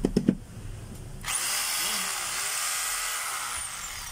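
A DeWalt D25032 rotary hammer starts up after a few brief knocks and runs steadily with a loud, continuous high-pitched motor whine. The unit is being tested after a repair for a stiff brush holder.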